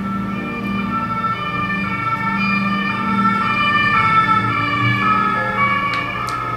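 A French police (BAC) car goes by with its siren on, a wailing two-tone call that rises and falls over a steady traffic rumble. It is moderately loud and stays in the background, with no voices.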